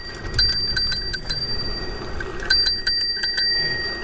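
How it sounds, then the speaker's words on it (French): A small Dutch bicycle bell rung in two quick bursts of bright, repeated dings, clear and close, with a short quiet gap between the sets of rings. "m'amuser à donner des coups de sonnette. Je sais pas pourquoi, j'aime bien. Ma petite sonnette de Hollande."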